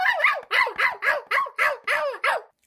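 A small dog barks sharply and steadily, about seven loud, close barks in an even rhythm with no other sound.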